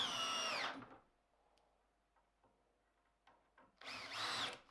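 A power drill drives screws into wood while building a compost bin, two loud whirring bursts at the start and end with quiet handling clatter between, no talking.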